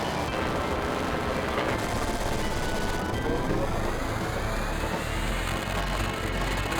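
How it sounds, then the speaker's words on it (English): The Flare materia spell in Final Fantasy VII sets off a dense, roaring explosion effect that fills the whole stretch loudly and continuously, with a rumbling low end and rising tones. "It was called Sword, so I was expecting to be a swing. It was more of an explosion. We got flare!"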